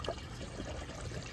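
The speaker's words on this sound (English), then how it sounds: "that's the 1/2-inch intake that's pumping water in right now" Water pumped through a half-inch intake into a concrete mixing tray used as a pond plant propagation bed, a quiet continuous trickle and splash heard up close.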